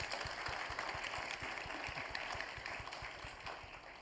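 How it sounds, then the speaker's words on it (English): Audience applause at an ISO annual meeting session, a steady wash of many hands clapping, moderately loud and even, fading slightly toward the end with no voices over it. "Please give a round of applause"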